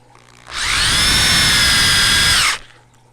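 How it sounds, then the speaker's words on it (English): A power drill drives screws into a double aquarium stand, running as one steady, loud, high whine for about two seconds before cutting off, with no talk over it. "Just go ahead and start screwing."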